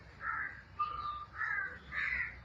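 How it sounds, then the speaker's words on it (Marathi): A crow caws four times at Rani Baug zoo in Byculla, Mumbai: harsh, nasal calls, evenly spaced and fairly close, over quiet outdoor background. "कावळा गेला उडून"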